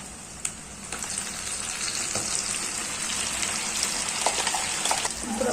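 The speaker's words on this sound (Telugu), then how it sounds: "ముందుగా మనం పేస్ట్ చేసి పెట్టుకున్నాం టమోటో, ఆనియన్, అల్లం తెల్లగడ్డ పేస్టు, 4 జీడిపప్పు వేసేసుకుందామా." Tomato, onion, ginger-garlic paste and cashews sizzle steadily in hot oil in a pan for a chicken gravy, a close, continuous crackling hiss with small pops and stirring scrapes throughout.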